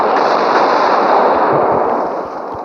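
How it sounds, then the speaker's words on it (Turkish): Turkish bomb thrown and exploding in a video game mod, a loud, dense crackling roar close by that holds steady, then eases off slightly as it fades. "Bir tane daha fırlatayım. Hop. bu, Türk bomba."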